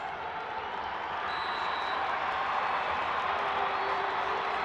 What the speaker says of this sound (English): Wildcat fans trying to cheer their team into the end zone